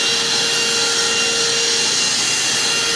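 Vacuum cleaner running steadily on a Prolink PRO903-WS UPS unit during cleaning, a loud, constant high-pitched whine with a broad airy hiss and no breaks.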